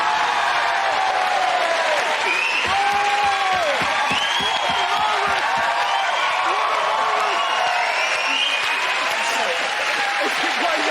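Loud, sustained applause from a TV comedy panel show studio audience, mixed with some cheering and shouted voices throughout.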